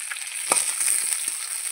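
Pieces of pangas fish frying in a pan, a close steady crackling sizzle with a few scraping strokes of a spatula as the fish is stirred.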